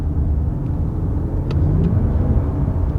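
A 2023 Lexus RX500h hybrid SUV accelerating, a steady low engine and road rumble heard from inside the cabin with no talk, holding loud and even throughout.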